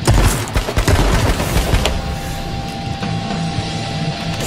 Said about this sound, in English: It's a shotgun blast right here!